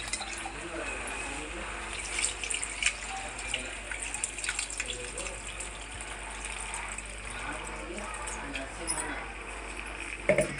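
Water gushes steadily into a cooking pot for gongura crab curry, a continuous close pour running throughout.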